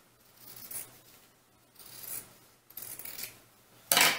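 Scissors snip and rasp through fabric while trimming a doll dress seam allowance, with a few close, soft cutting strokes in separate bursts and a sharper rustle at the end.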